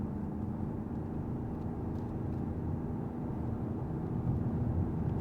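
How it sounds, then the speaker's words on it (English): A 2025 Toyota Camry hybrid's CVT drones steadily under acceleration in Eco Drive mode, a constant low mechanical hum heard from inside the cabin with no talking. "CVT still complaining"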